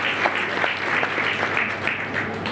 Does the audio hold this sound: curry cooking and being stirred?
no